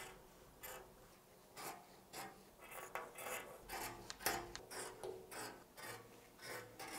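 A paper sewing pattern for a long-sleeve button-up shirt is trimmed out, giving irregular close rasping and rustling bursts of cutting and handling paper, with no talking.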